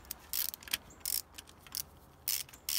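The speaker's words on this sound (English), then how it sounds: "Extension, and then your preferred ratchet of choice." Brief quiet clicking bursts from a ratchet with an extension and magnetic spark plug socket being worked on a Honda K24A engine, several short metallic clicks in an irregular rhythm, close and faint.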